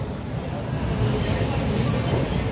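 DEMU passenger train pulling out of Kurnool station, a steady rumble of rolling wheels and rail noise heard from on board, loud and continuous, with a faint high squeal.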